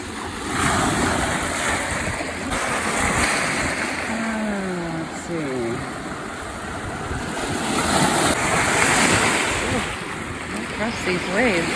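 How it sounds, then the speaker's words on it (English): Ocean waves washing onto a rocky shore by Kona dolomite outcrops, a steady roar of surf with wind buffeting the microphone, and brief wavering voice-like tones partway through. "These waves."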